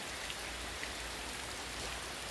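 Rain falls steadily, a dense, even hiss of drops on surfaces that stays constant throughout with no voices.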